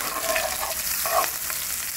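Sliced onions fry in oil with a steady close sizzle while a spoon stirs them in soft repeated scrapes, and no one is talking.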